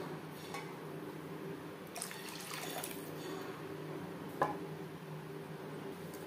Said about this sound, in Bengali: 3-4 মিনিট গ্রেভি বেশ ভালো করে ফুটিয়ে নেব